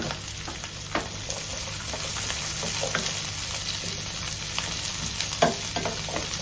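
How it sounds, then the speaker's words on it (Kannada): Ginger and garlic fry in a hot pan, giving a steady, close hiss with a few brief stirring scrapes and pops throughout. "ಈಗ ಶುಂಠಿ ಮತ್ತು ಬೆಳ್ಳುಳ್ಳಿಯನ್ನು ಹಾಕ್ತಿದ್ದೇನೆ"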